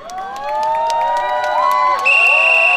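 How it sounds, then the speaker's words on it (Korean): An outdoor crowd at the Bonghwa Sweetfish Festival cheers and shouts for a trot singer's stage performance, sustained voices swelling and growing louder near the end. "여기 계신 모든 분들 박수와 함성 많이 부탁드리면서"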